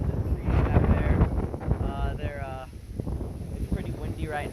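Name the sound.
strong wind before Hurricane Ida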